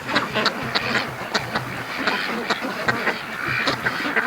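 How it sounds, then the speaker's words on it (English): Free-range ducks quacking in a yard, a lively run of loud, close, repeated quacks from several birds in an uneven rhythm. "the ducks are going to just basically make a mess of the yard"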